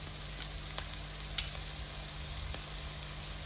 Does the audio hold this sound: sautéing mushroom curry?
yes